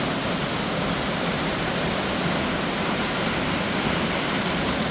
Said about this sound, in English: There's a few levels of cascade up above me.